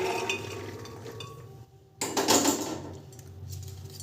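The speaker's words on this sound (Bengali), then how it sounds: "কুকারের মধ্যে এই কাবলি ছোলাটা আমি ঢেলে দেব" Dry kabuli chickpeas poured into a pressure cooker, a clattering rattle of hard legumes against metal that swells sharply near two seconds amid kitchen clinks.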